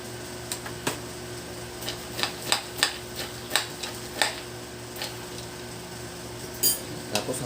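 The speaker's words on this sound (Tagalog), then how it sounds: "Tapos haluin po para lahat po malagyan ng lasa." Seasoned peanuts are stirred in a pan, a spoon or spatula giving light, uneven clinks and scrapes against the metal in an irregular rhythm, close and fairly quiet, with no talk.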